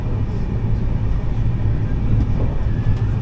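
An IRCTC Tejas Express between Ahmedabad and Mumbai Central rushes past Anand at full speed, heard from inside an AC chair car as a heavy, steady low rumble with faint rattles above it.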